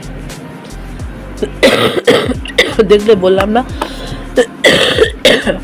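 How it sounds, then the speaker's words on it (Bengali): A person with a lingering cough lets out several short, harsh coughs close to the microphone, mixed with speech. "কাশিটা আছে কিন্তু কম আছে"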